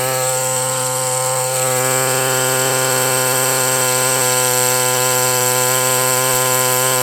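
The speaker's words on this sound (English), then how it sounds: "Rock smoothing. Very slow, very tedious, but boy oh boy, what a difference this makes." A power tool grinds steadily against a rock during slow smoothing work, a loud continuous whine with strong steady harmonics that holds unbroken for the whole stretch, with no voices.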